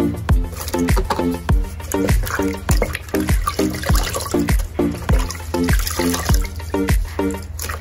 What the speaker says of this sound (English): I'm just gonna wet it down with some plain water.